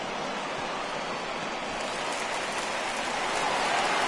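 Steady rainfall during a 1983 baseball playoff game between the Tigers and Orioles, a continuous dense hiss of drops on surfaces that swells slightly toward the end, with no speech audible.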